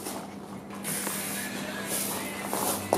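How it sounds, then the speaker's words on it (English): Hairspray hisses onto a strand of hair as a stylist prepares someone for a big event, several close, sharp spray bursts following one another in quick succession. "just take a strand and spray the shit out of it"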